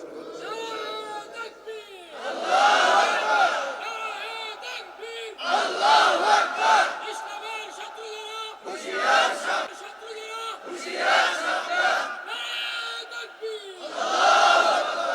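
Crowd of listeners chanting and shouting slogans in unison during an Islamic waz sermon, loud bursts of massed voices rising and falling in repeated waves with a leader's calls between them.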